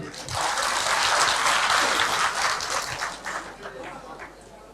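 Audience applause at a sixth anniversary event in Bangladesh, a dense burst of many hands clapping that stays loud for several seconds and then thins and fades toward the end.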